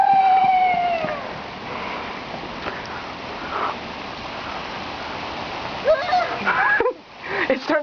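Heavy rain pours down outdoors while people run through a rainstorm, a loud steady wash of splashing water running the whole time, with voices calling over it near the end.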